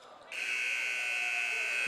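A high school basketball game buzzer sounds at the end of the half, a loud, steady electronic tone that starts abruptly and holds, with an announcer talking alongside it.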